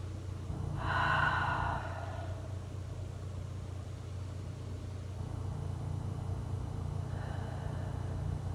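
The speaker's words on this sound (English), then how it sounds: "and then just rest here and breathe." A dancer resting in a wide, turned-out ballet stretch lets out one soft, close exhale, followed by a faint low hum and a fainter breath near the end.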